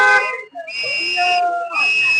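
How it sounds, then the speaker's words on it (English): A shrill, sustained whistle blows steadily in two long stretches with a short break between them. It is loud and close, with faint voices around it. "I don't want to hear that damn whistle."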